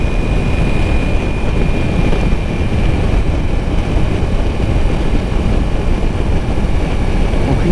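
Ducati Multistrada V4 motorcycle engine running steadily on the road, a continuous low broadband drone with a faint whine, mixed with rushing wind noise throughout, no voices.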